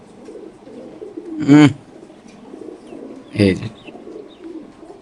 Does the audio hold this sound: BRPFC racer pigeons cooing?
yes